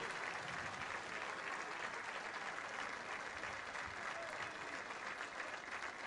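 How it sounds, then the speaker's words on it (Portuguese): Stadium crowd applauding a Sporting football player on his debut in a friendly match against an Azores team, a steady, dense wash of clapping that stays even and fairly distant for the whole stretch. "E palmas para Ryan Gold, sobretudo"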